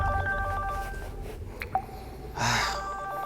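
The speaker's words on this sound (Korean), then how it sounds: "며칠 전 현장에서 들었던 고인의 핸드폰 벨 소리가 제 방 안에 울리고 있었습니다." A mobile phone ringtone rings in a quiet room, its tonal melody cutting off partway through, followed by a short breathy sound.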